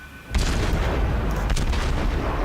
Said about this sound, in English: they're all firing armor piercing, and it looks like a lot of those shots hit